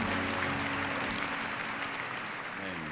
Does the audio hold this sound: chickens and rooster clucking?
no